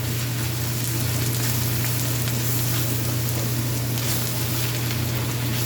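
Flour cooking in a pan for Salisbury steak gravy, with a steady, even sizzle and hiss running close and continuous throughout, with no speech.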